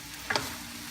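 A utensil briefly scrapes and tosses pansit bihon ingredients, including celery, in a hot pan. It gives one quick, close stirring swish over a faint background hiss, then settles back to quiet.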